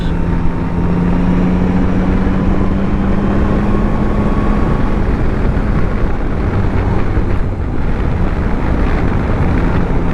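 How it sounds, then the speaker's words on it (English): A 2024 Yamaha Tracer 9 GT+ motorcycle engine braking on the road, a loud steady engine drone with a slowly shifting pitch, heavily mixed with wind rush over the mic and no talking. "Engine brake is quite good on this."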